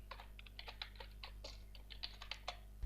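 Computer keyboard typing while writing HTML code, a quick, fairly faint patter of key taps in uneven bursts, close by with no talking.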